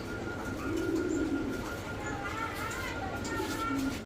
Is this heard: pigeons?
yes